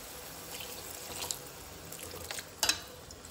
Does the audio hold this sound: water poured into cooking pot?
yes